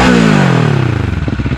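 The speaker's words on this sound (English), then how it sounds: "Samahan pa ng badass na low tone exhaust sounds, tunog big bike talaga kahit stock pipe lang." A Bristol Bobber 650 motorcycle on its stock exhaust gives a loud, deep, low-toned engine note that drops in pitch as it comes off the revs, then settles into a close, pulsing thump.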